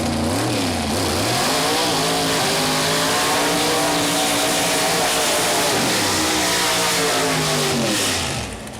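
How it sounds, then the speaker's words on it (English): A Pro Mod door-slammer drag car does its burnout at Mooresville Dragway, a loud, close, raw engine roar with rising and falling revs held steady for several seconds before easing off at the end. "Completing the burnout procedure"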